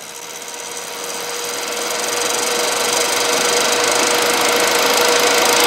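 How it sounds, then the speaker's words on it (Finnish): Computer cooling fans spin up to full speed after the processor loses power in a running PC. A loud, broad, steady whir with a faint tonal whine grows louder over several seconds and then holds. "mut tuulettimet menee ihan vittu apeshit. Kuunnelkaa nyt tätä."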